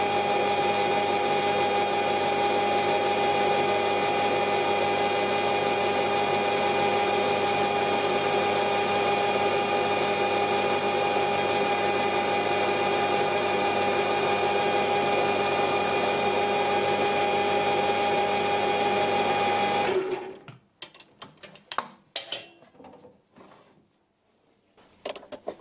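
A wood lathe fitted with a large drill chuck and a 4mm pilot drill bores a center hole in wood, its motor holding a steady whine for about twenty seconds before shutting off, followed by sparse clicks and handling noises.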